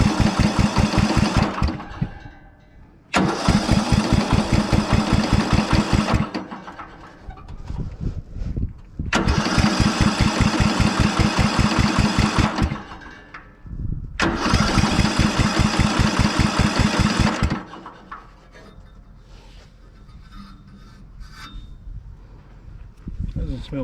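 A Briggs and Stratton engine on a cheap ride-on mower cranks over in repeated long bursts of fast rhythmic chugging, each cutting off into quieter gaps, with voices talking between attempts.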